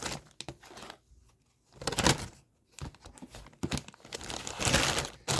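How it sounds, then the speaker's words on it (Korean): Crinkly plastic from a zipper bag, with opened Pokémon card packs being stuffed back inside in several bursts of close rustling and crumpling, separated by short pauses. "제가 넣어 다니는 지퍼백에다가 모든 걸 다시 다 넣었습니다"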